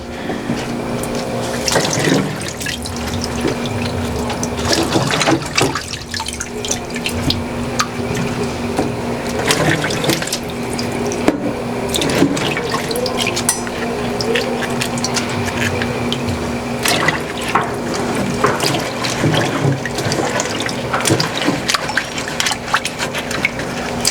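Freshly pulled garden carrots are washed in dirty water, with continuous splashing, sloshing and running water held loud and close for the full stretch.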